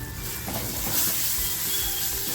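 Black pepper chicken masala fries in a pan, giving a dense, steady sizzle and hiss that fills the whole stretch, close and even, with no talking.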